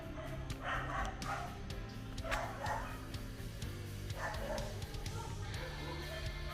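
A household dog yips and barks in short, repeated bursts at a home in Kerala, moderately near, with a steady background hum and no speech over it.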